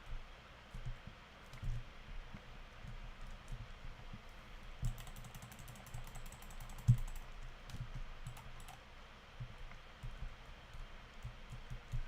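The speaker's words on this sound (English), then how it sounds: "The reason I'm typing in chat rather than shooting boss" Quiet, quick computer keyboard typing for in-game chat while playing Hypixel Skyblock, soft rapid clicks running in bursts over faint background noise.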